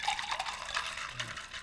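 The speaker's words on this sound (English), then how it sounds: "we're gonna pour that into our glasses" A mixed drink is poured from a mixing container into glasses, making a soft, steady liquid splash and trickle that stays quiet throughout.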